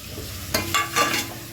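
Tomatoes, green chillies and ginger paste fry in a pan for a vegetable biryani, a steady sizzle broken by a few louder bursts of stirring and scraping.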